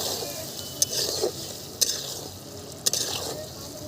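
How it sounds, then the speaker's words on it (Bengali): A chicken curry in a covered pan is stirred with a utensil, soft scraping strokes over a continuous sizzle, with a few sharp metallic knocks against the pan. "এখন আবারও নেড়ে দিচ্ছি"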